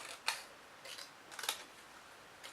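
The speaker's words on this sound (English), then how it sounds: "And then with your thread, where you've scored, just cut that off." Scissors snip through thread on a lace box, giving a few quiet, sharp clicks spaced across a brief, otherwise hushed moment.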